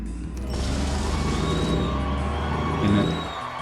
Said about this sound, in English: A whole lot of cheering.